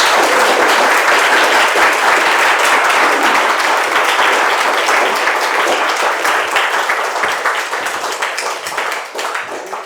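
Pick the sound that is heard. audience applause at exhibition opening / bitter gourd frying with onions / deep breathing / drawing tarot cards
audience applause at exhibition opening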